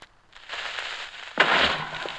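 A sudden burst of a Minecraft explosion with a crackling, noisy rumble, following a quieter stretch of hissing effects.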